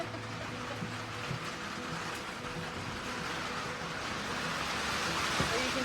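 Pouring rain outside a workshop forms a dense, unbroken roar of hiss that swells slightly toward the end, with a low steady hum underneath and no pauses.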